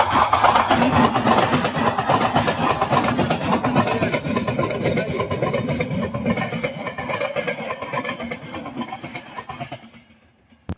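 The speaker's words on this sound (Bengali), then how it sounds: "এর মধ্যে ট্রেন চলে এসছে দেখো অবস্থা।" A train arrives with a loud, continuous mechanical rumble close by, which drones steadily and then fades out and stops near the end.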